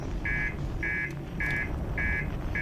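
Beeping from the video game Outer Wilds: four evenly spaced, short, high electronic tones repeat at a steady rhythm over a low background hum.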